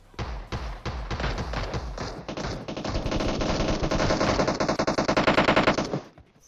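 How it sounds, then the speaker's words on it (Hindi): Rapid automatic gunfire from a PUBG Mobile match, dense bursts of shots rattling loudly and almost continuously for about six seconds before cutting off. "अब गोलियां इधर तोड़ फोड़ के चल रही है"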